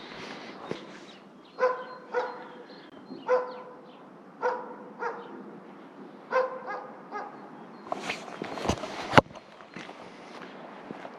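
A dog barks repeatedly at a passerby on a rural road in Kannus, Finland, its sharp barks coming in an uneven series at moderate distance, with a few higher yips and footsteps beneath.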